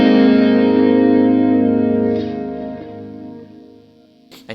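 A sustained electric guitar chord rings through a slowed tap delay, its spread-out repeats blurring into a dense, reverberant wash that slowly fades, with a brief click at the end.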